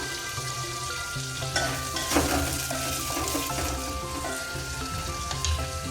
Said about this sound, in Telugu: కొంచెం కొద్దిసేపు ఆ పచ్చివాసన పోయే వరకు మనం వేయించుకోవాలండి